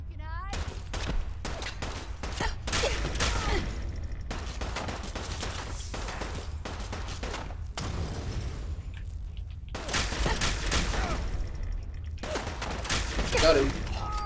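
Gunfire in Fallout 4: repeated bursts of rapid shots across a long stretch, close and loud, separated by brief pauses, over a dense rumbling background.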